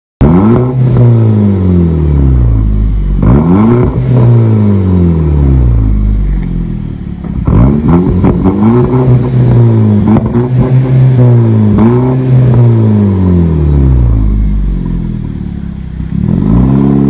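A Skoda Octavia 1.8 fitted with a new tuned exhaust revs repeatedly, each loud, deep blip rising and falling in pitch, close to the car and with no talking.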